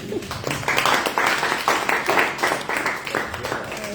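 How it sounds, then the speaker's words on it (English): An audience at a storytelling book fair claps in a moderate, uneven burst of applause, with voices audible over the clapping. "Guys, clap for this guy."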